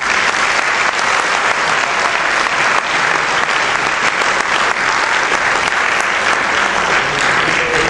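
Sustained audience applause at a bicentenary commemoration event in Caspe, steady dense clapping from a crowd filling the whole stretch without pause.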